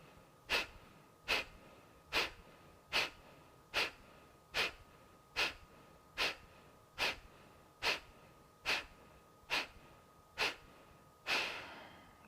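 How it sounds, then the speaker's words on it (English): Rhythmic yoga breathing in a beginner's vinyasa class: about a dozen sharp, evenly spaced forceful breaths close to the mic, ending in one longer, softer exhale, with no talking. "Let's take a full breath in to prepare. Exhale completely. And then inhale about halfway and begin the first round."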